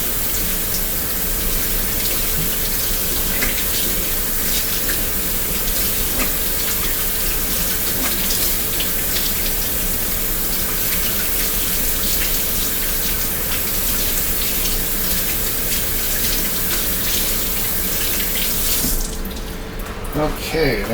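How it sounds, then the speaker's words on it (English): A kitchen tap runs steadily as soap is rinsed off hands, a continuous close splashing rush of water that cuts off near the end. "I'll go ahead and rinse off the soap."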